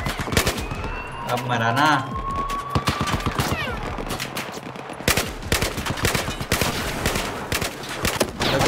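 Rapid machine gun fire in the Battlefield 4 campaign mission Tashgar, dense bursts of loud shots throughout, with excited male speech over the gunfire.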